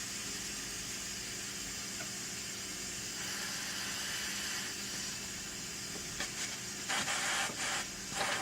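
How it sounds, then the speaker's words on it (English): Steam rushes out of an electric pressure cooker during a quick release, a loud continuous hiss that holds steady throughout and sputters in a few bursts near the end, with no voices. "There's the quick release."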